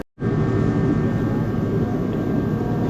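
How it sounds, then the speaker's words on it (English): A refrigerated vending machine compressor kicks on and runs, a steady loud droning hum with a faint tonal whine, heard close and continuous without talk. "So clearly the compressor is working now."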